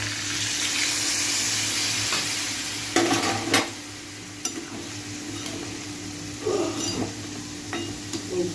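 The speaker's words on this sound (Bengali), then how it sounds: "তো আমি এবার এর ভিতরে সর্ষের পেস্ট করে রেখেছিলাম সেটা দিয়ে দেবো" Mustard paste added to fried yardlong beans and potato in a pan, giving a steady close sizzle broken by a few stirs and utensil scrapes.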